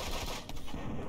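A single sharp sniper rifle shot rings out in a video game, loud and close, standing out briefly against dense game noise with no talking.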